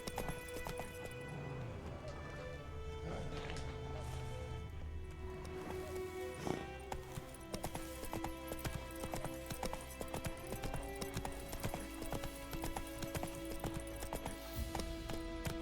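Hooves of the horse Roach clip-clop steadily in a video game, a continuous rhythmic trot that runs throughout, with an occasional snort and game music layered underneath.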